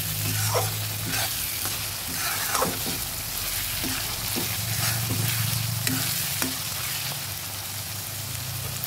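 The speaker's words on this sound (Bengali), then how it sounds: "পেঁয়াজ কুচি আর আদা রসুনটা ভালো করে ভেজে নিচ্ছি।" Chopped onion, ginger and garlic fry in oil in a pan for a mutton curry, giving a steady close sizzle broken by repeated scraping stirs of a spatula.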